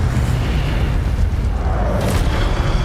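Fire spell blasts in Hogwarts Legacy on PS5 Pro, a steady loud rumbling roar of magical bursts and booms with a brighter flare near the end, no talk.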